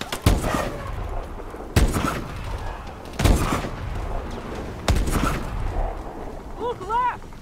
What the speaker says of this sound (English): I need cover fire! Taking the shot!